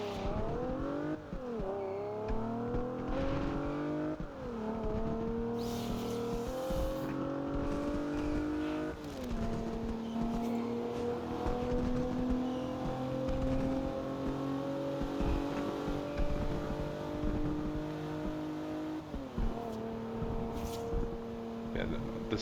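Lexus GS350 engine in the racing game Forza Horizon 2, droning steadily and rising in pitch through repeated gear changes, with someone talking casually over it throughout.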